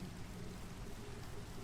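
Steady rain falls in Minecraft, a continuous dense hiss of patter with a low rumble beneath, even and unbroken throughout with no voices.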